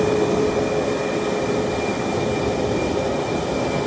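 An Emirates Boeing airliner taxis at Tashkent airport, its engines giving a steady, loud broadband roar with a faint whine, close and constant and without speech.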